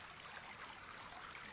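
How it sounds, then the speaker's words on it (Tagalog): A small rural stream flows nearby, a soft continuous bright babble of water without voices. "Ang sapa, oh. Dadaan ko na ng sapa."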